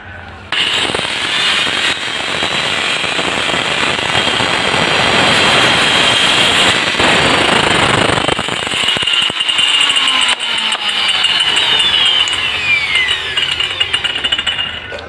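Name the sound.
angle grinder with wood cutting blade cutting wood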